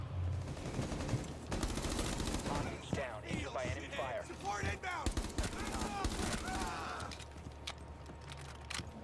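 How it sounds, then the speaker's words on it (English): Weapon gunfire in Rainbow Six Siege, with rapid automatic bursts mixed with clattering mechanical sounds and game effects, at moderate level, while a person talks over parts of it. "this weapon has pretty decent hip fire."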